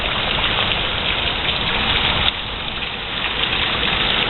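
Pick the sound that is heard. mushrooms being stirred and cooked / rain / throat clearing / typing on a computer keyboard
rain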